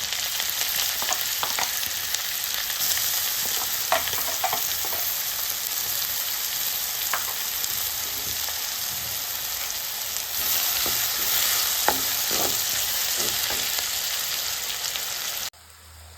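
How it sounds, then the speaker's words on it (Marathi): Finely chopped onion frying with ginger-garlic paste, a steady dense sizzle that carries on for a long stretch, with occasional soft stirring clicks and scrapes, close by and without talk, cutting off abruptly at the end. "आपण ह्यामध्ये बारीक चिरलेला कांदा टाकायचा आहे"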